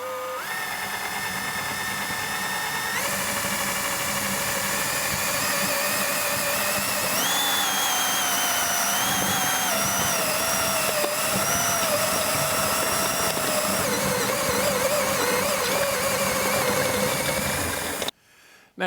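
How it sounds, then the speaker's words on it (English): A power drill whines steadily for a long stretch drilling into a soft aluminum elbow, its pitch shifting up partway through, then stops abruptly at the end. "let's go ahead and start drilling this"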